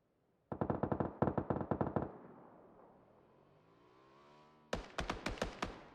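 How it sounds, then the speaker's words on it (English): Automatic gunfire in the battle royale game PUBG comes in two loud rapid bursts, one near the start and one near the end, with a quieter stretch of echoing tail between them. "The shots being taken out here by Soup."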